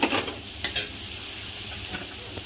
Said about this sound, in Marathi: फास्ट गॅसवरच हे फ्राय करून घ्यायचं, म्हणजे कुरकुरीत भाज्या होतील